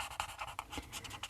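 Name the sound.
colouring flowers with a pen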